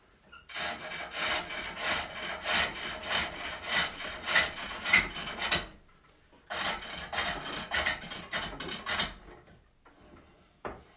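Wooden lidded box being turned on a pole lathe, a Swedish style locking box, with the tool held low on the rim. Two long runs of rhythmic scraping cuts, one after another, with a brief pause between.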